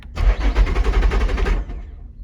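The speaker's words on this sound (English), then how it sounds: "Dang, spinning over but not starting." A car at a Copart salvage yard, push-button start, cranks over without catching: a fast, even chugging of the starter and engine turning for about a second and a half, loud and close, then stopping.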